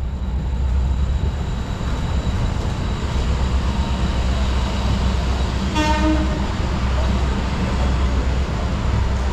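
A special Independence Day train rolls into Santragachi station with a steady loud rumble throughout, and a brief horn toot sounds partway through.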